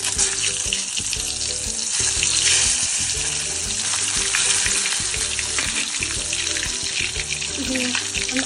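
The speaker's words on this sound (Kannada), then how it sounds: "ಬದನೆಕಾಯಿನ ಫ್ರೈ ಮಾಡ್ಕೋಬೇಕು" Brinjal slices deep-fry in hot oil for bajji, a loud, dense, unbroken bubbling sizzle that runs close throughout with faint underlying clinks.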